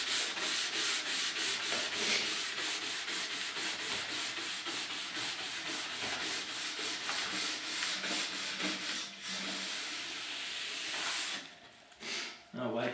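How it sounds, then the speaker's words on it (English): A nylon brush scrubs quickly back and forth over a waxed ski base, giving a close, rhythmic rasping hiss of rapid even strokes that slows into a few separate swipes at the end. "we're going to polish that up with the nylon brush."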